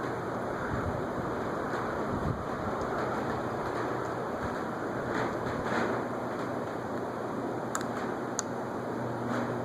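A fan switched on by remote at a fan museum, giving a steady, broad whooshing rush of moving air that fills the space evenly and continuously, with a faint, low hum beneath it.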